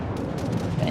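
Warship guns firing German armor-piercing shells in World of Warships, a burst of dense, booming gunfire heard up close, rolling into a loud blast at the very end.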